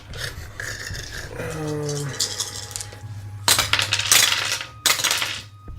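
Dice rattle and clatter on a table during a tabletop game session, several bursts of hard rolling and tumbling over a busy background with a brief tonal ring.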